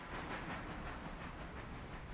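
A freight train rolling along in the Railroader video game, a steady broadband rumble and hiss with faint rhythmic clatter, continuous and even, no voices over it.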